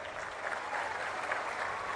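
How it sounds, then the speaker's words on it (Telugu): Steady, dense applause from a large audience at an outdoor public government event, sustained clapping at moderate distance with no voices over it. "గట్టిగా చప్పట్లు కూడా చెప్పండి"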